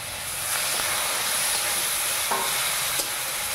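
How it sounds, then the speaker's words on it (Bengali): Water poured into meat masala frying in a pan sets off a loud, steady sizzling hiss with faint stirring scrapes, close and continuous without any voices. "মশলাটা জ্বলে যেতে পারে, একটু জল দিয়ে দিচ্ছি"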